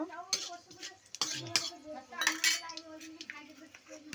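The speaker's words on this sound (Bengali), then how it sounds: "তারপর দিয়ে দেবো একটু নেড়ে নেব" A spoon stirs mixed vegetable curry with panch phoron spices in a pan, giving close, irregular clinks and scrapes against the metal over about four seconds, with a voice murmuring in the background.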